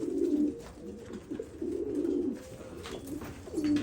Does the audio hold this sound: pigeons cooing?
yes